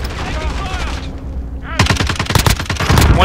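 Rapid bursts of automatic gunfire from a battle royale video game firefight, loud and dense, starting after a brief stretch of game ambience and continuing in quick repeated volleys.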